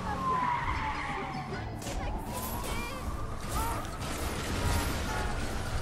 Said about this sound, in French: Ok, donc là c'est moi qui dirige la bagnole pour le coup.